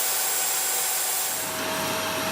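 A power mixer whirs steadily and loudly as floor self-levelling compound is stirred in a bucket, a continuous close drone with no talk.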